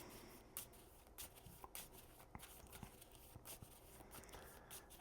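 A deck of game cards for an Avatar: The Last Airbender deck-building game being riffled and shuffled, quiet repeated bursts of crisp flicking separated by short pauses, heard close in a quiet room.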